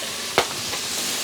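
Ground beef seasoned with garlic powder sautéing in a pan, a steady soft sizzle with one brief stir scrape near the start, fairly close and alone.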